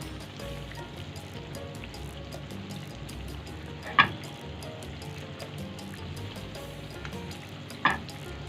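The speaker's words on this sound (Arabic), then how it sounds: "جبت الطاسه بتاعتي كده وحطيت فيها زيت سخن وهبتدي انزل بالسمك بتاعي كده" Fish pieces dredged in flour frying in hot oil in a pan, giving a steady soft sizzle throughout with two brief louder crackles as pieces go in or are moved; no talking.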